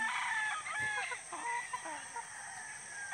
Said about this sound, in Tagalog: Dito tayo sa aking mga manok.